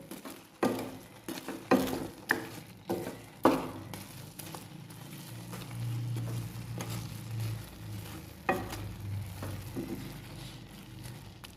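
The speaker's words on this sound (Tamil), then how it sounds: "ப்ரெட் துண்டுலாம் போட்டு இப்படி கிண்டி விடணும்." Bread pieces are stirred in milk in a pan for bread halwa, with a soft bubbling simmer and several irregular scraping knocks of a spoon against the pan at close range.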